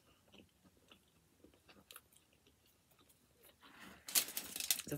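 Chewing on a Domino's veggie cheese pizza with barbecue sauce: soft, close wet mastication with small crunchy bites that grow louder and crisper toward the end, no talk.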